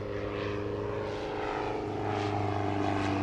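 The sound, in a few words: propeller airplane flying at an airshow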